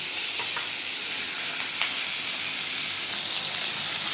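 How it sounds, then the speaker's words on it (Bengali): Tangra fish frying two at a time in hot oil, a constant close bright sizzle and spatter with brief crackling pops, no talking. "তেল গরম হয়ে গেছে আমি দিয়ে দিয়েছি তেলে দুটো দুটো করে ভেজে নিই"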